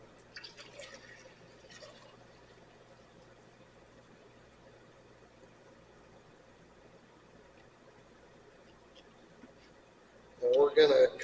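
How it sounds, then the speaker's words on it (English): Liquid pool chemical is poured from a bottle into a swimming pool. The short, fairly loud gush of splashing comes only near the end, after a long quiet stretch. "when you're pouring this in, you don't want to make it splash"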